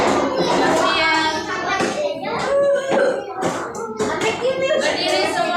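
A classroom of children performs a rhythmic clap routine together, with bursts of clapping mixed with chanted children's voices in a lively, patterned rhythm, close and loud.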